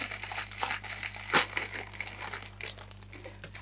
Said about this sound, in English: Let's have a look at the figure. So, I'll just get into the plastic.